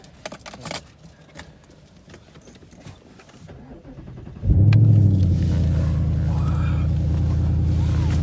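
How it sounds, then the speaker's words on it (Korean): A 5000cc car engine starts up and settles into a loud, steady idle rumble, preceded by faint clatter and handling noises inside the car in Queenstown, New Zealand. "소리가 5000cc 소리가 죽이죠?"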